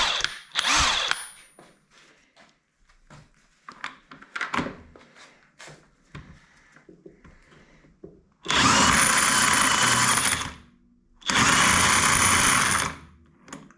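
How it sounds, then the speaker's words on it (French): A very large impact wrench loosens a clutch nut in two loud, sustained bursts of hammering, each lasting a few seconds with a short pause between, after some quieter shuffling and clanking of handling. "Maintenant, j'ai vu peut-être un peu grand avec cette clé à choc car elle est énorme."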